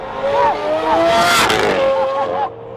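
A V12 Lamborghini pulls away, its engine rising through wavering revs to a loud, surging roar, then cutting back sharply near the end.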